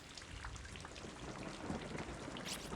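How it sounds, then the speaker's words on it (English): Heavy rain pours beside a pool in the horror video game Corpse Party, a dense steady hiss with low thunder rumbling underneath, fairly faint and with no voices. "Can't even see the other side of it with all the rain."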